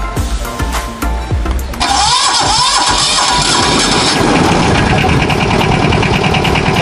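A combine harvester's engine cranks with a few uneven mechanical knocks, then catches and settles into a loud, steady mid-pitched running drone that continues to the end.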